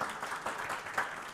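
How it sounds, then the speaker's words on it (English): Audience applause at a low-carbon seminar in Tallinn, a brief burst of clapping of moderate loudness that continues steadily for about a second and a half with no talk over it. "I already got the applause"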